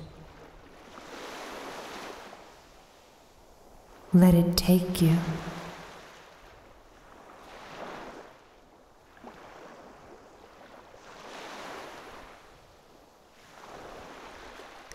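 Soft ocean waves wash in and recede in slow, regular swells, faint and distant, with a whispered voice speaking over the water and one louder burst midway.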